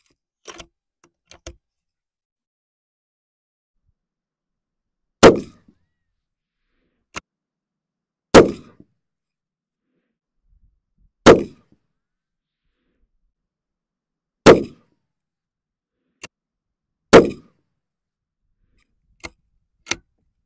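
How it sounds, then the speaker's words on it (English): A precision rifle fires five sharp, loud shots at a target, spaced about three seconds apart, with faint mechanical clicks between them in otherwise quiet surroundings. "Let's run 5 rounds into a group."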